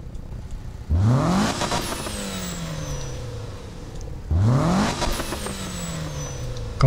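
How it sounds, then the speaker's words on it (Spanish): A turbocharged car engine in the Need for Speed (2015) racing game revs hard twice, each rise climbing sharply, then easing into a whooshing, whistling wind-down, loud and up close with no voices. "¿escuchan ese turbo?"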